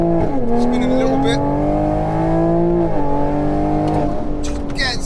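A tuned 460 bhp stage 2 Toyota Supra MKV pulls hard in second gear with its wheels spinning. The loud engine note climbs steadily, dips at a shift, then climbs again close by.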